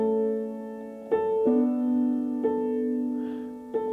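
Piano plays sustained thirds in the bass under a pulsing right-hand chord pattern, with chord changes every second or so; close, warm and steady, with no talking.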